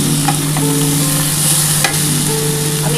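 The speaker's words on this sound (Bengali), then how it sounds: "এই জলটার সাথে ভালোভাবে কষাতে হবে" Spices and ginger water stirred and fried together in a pan for a papaya, potato and chickpea curry, a loud close sizzle with scraping spatula strokes and a steady hum underneath.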